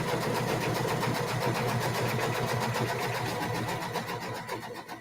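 Kimberbell embroidery machine running steadily as it stitches background quilting on an Enchanted Winter Tree quilt block, a continuous close mechanical whir with a rapid regular needle rhythm and no speech.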